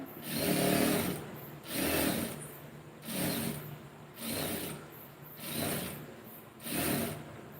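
A sewing machine stitches a lined blouse in six rhythmic bursts of mechanical whirring, each lasting about a second and separated by short pauses, heard up close.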